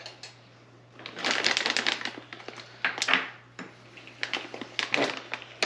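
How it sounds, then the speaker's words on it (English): Raisins being chopped into small pieces for orange mead, a run of quick dry knife taps and crunchy cuts on a board that come in close bursts with short pauses, over a low steady hum. "You got to cut each one into eighths."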